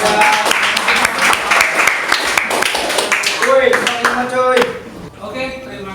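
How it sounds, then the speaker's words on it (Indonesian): Applause fills a classroom as students clap for a third-place winner, a dense run of overlapping claps that thins out and fades near the end, with a voice speaking over the last seconds. "Ya, beri tepuk tangan kepada."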